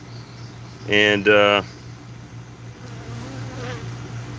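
A bee buzzes loudly right by the microphone during a beehive swarm inspection, two close droning bursts over a steady low hum, then fainter buzzing and a brief spoken word.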